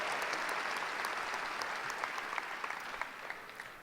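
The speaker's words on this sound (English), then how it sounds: "We'll give them a round of applause." A high school graduation audience claps in a steady, dense burst of applause that fades slightly toward the end, with no talking over it.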